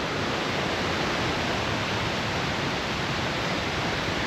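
The Paradise River rushing between waterfalls on Mount Rainier, a dense, steady, full-band roar of whitewater, close and loud, unbroken and with no voices.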